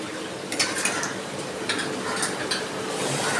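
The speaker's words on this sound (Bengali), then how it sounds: "আমি অল্প অল্প করে আস্তে আস্তে করে আঁচটা কম করে ভেজে নিচ্ছি।" Koftas frying gently in oil over low heat, a steady soft sizzle with occasional light pops and the clink of a utensil against the pan.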